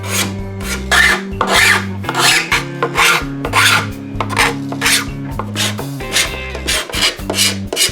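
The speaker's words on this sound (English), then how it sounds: "there's nothing a little sanding or scraping can't fix. This is called the card scraper" A flat metal card scraper drags across a 3D-printed part in loud, close, rhythmic rasping strokes, roughly a dozen in a row, with a music track playing underneath.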